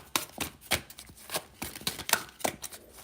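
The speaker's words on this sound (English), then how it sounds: "I'm going to go ahead and shuffle and pull from the top." Tarot cards are shuffled by hand at close range, a series of quick papery riffles and taps in an irregular rhythm, fairly quiet with no talking.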